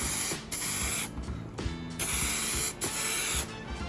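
Bursts of 3-in-1 primer spray-painted onto an 800-size Roban MD-500E RC helicopter body, loud close hissing spurts of about half a second to a second, separated by short pauses.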